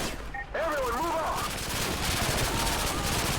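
Rapid P90 submachine gun fire in Modern Warfare 2, a dense, continuous burst that stays loud and steady for several seconds after a brief pitched tone near the start.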